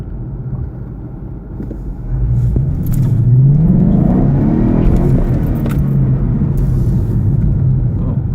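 A car's engine rises from a low rumble into a loud sustained rev as it slides sideways with traction control on, the pitch sweeping up and falling back, close and without talk.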